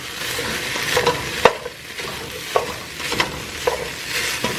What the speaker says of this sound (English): I'm just gonna stir it around some so like the onions can touch the bottom and become a bit softer